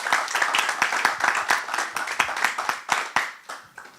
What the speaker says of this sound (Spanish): Yo quiero pedirles un fuerte aplauso para bienvenir a nuestros egresados esta mañana.